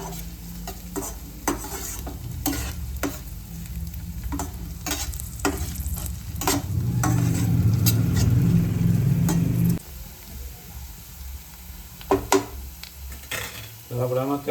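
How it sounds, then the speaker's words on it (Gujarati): Carrots are tipped into a hot pan of spicy masala pasta and stirred with a utensil, giving a steady sizzle that swells louder midway. Scraping clinks of the spoon against the pan repeat throughout, close up. "હવે આપણે આમાં ગાજર ઉમેરી દઈશું."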